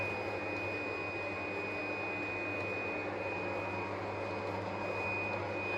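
A PFI Blade B2+ card cutter creasing and cutting business cards gives a steady, even mechanical drone with a faint high whine, running continuously at moderate level with no voices.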